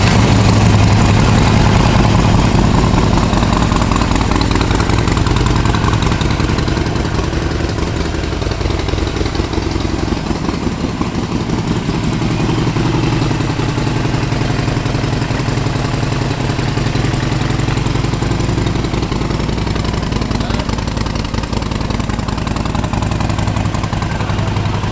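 A 2012 Harley-Davidson Sportster 48 motorcycle engine idling loud and close, a deep steady rumble with an uneven lumpy pulse that holds for the whole stretch, no voices.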